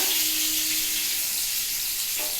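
Onion and cumin seeds sizzle in hot oil, a steady, even hiss that carries throughout at moderate level with no talking.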